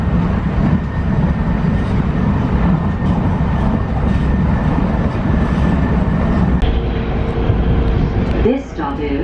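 PATH train running toward Exchange Place, a steady loud rumble and rattle of the railcar in motion, continuous throughout with a brief shift near the end as the train slows.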